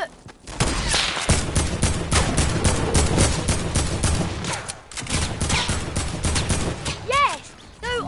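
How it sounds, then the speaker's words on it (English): Gunfire in a Fortnite match, dense bursts of shots with a sniper rifle among them, packed close together across the whole stretch, with excited voices shouting over the shooting. "I sniped this guy, yeah? I quickscoped him."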